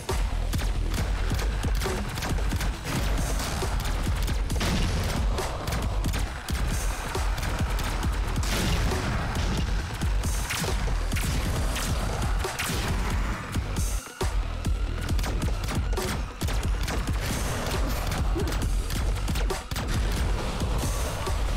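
Continuous loud shooting and blasts in the twin-stick shooter Wildcat Gun Machine, a dense unbroken barrage of shotgun-like bursts and explosions layered over driving game music throughout.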